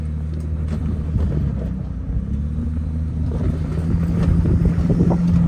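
A stock Toyota Tacoma truck engine labors up a steep loose off-road hill in the White Mountains, a loud continuous low rumble and drone that builds slightly, with wind buffeting the microphone.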